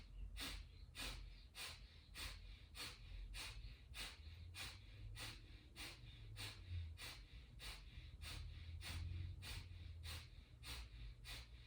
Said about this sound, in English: It's called fire breath.